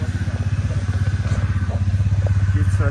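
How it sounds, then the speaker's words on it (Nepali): A scooter engine idles with a steady, rapid low putter and light clatter, close by and loud throughout the short stretch, settling into an even rhythm after starting up. "यहाँ स्कुटर स्टार्ट भइरहेको छ"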